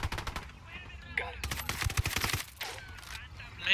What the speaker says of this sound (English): Your gun's loud.